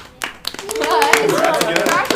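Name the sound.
applause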